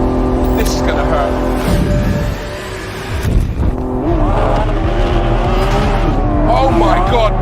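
A Lamborghini Aventador SVJ launches under launch control, its loud engine roaring and climbing through rising revs and gear changes, with a voice talking over the blast.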